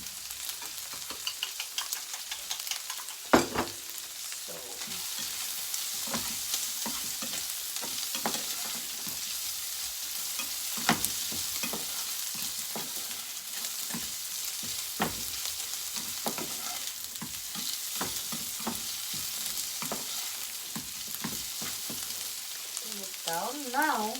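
Hash browns seasoned with garlic powder sizzle steadily in a frying pan, a close, continuous crackle broken by frequent sharp ticks and pops for the whole stretch.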